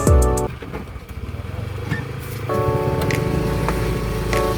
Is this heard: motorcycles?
yes